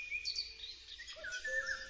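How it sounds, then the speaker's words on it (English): A blue tit calling in a forest, thin high chirps and short trills repeating over faint background hiss. "The blue tit is a small bird from the tit family."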